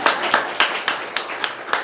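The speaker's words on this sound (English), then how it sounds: "I wondered where the applause went." A small audience at a live talk-show taping claps thinly. About seven sharp, evenly spaced claps come in a steady rhythm rather than as full applause.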